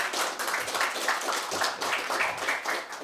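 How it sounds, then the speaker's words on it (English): A conference audience applauds after a technical talk. Dense, continuous clapping from many hands fills the short stretch at a steady level, with no voices over it. "let's give a warm round of applause to Valentin."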